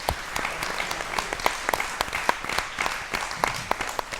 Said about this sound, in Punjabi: ਤਾਲੀਆਂ ਜ਼ੋਰਦਾਰ ਚਾਹੀਦੀਆਂ